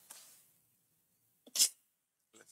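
A single sharp sneeze bursts out in a quiet room, preceded by a short intake of breath and followed by a faint sound afterward.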